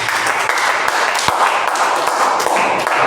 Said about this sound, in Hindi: सबसे पहले आप सभी लोग अपने अपने डिसीजन के लिए जोरदार तालियां बजाएंगे।